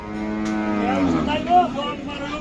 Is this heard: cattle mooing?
yes